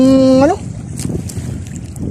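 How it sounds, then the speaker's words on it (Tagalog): Strong wind buffets the microphone in a steady low roar after a brief tonal sound at the start, with faint splashing of water from the waves, out on the sea while fishing. "malakas na yung hangin"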